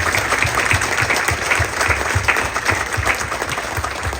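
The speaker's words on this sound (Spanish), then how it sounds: "Pues vamos a hacer un aplauso a San Nicolás de Bari" A congregation applauds Saint Nicholas of Bari at a novena service, dense, steady clapping from many hands filling the whole stretch at close range.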